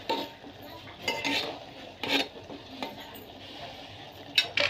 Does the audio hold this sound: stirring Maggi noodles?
yes